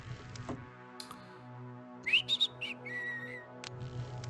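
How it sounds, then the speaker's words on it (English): A person whistles a short tune of a few rising and falling notes, close and fairly loud, inside a quiet room with soft tapping and faint low hum around it. "Oh, I'm not supposed to whistle."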